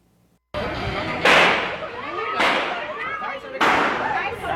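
Gunshots ring out during an armed robbery on a street, a series of loud, sharp bangs spaced about a second apart that echo between buildings, with voices and commotion running underneath.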